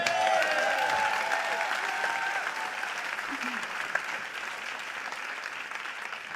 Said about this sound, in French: On applaudit Audrey Vernon.